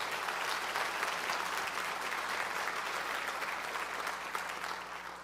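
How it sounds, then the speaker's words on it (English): Sustained applause from a large audience at a college convocation, a dense, even wash of clapping that holds steady and begins to fade near the end, with no speech over it. "let's give our Chancellor another round of applause for his presentation"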